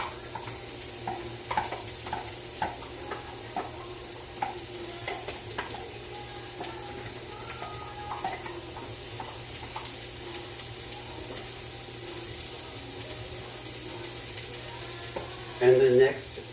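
Onion frying in a pan, a continuous moderate sizzle with scattered clicks and scrapes of stirring, and a brief louder clatter near the end.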